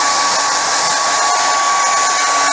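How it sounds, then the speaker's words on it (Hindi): Hair dryer on a high setting blowing steadily and loudly close by as it dries a wet screen-printing frame, a continuous even whoosh with no talk. "हेयर ड्रायर से इसे आप इजीली 2 से 3 मिनट में सुखा सकते हो।"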